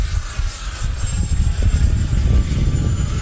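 An E-flite F-16 70mm EDF RC jet flying into the wind, its ducted fan giving a steady, fairly loud whooshing roar throughout.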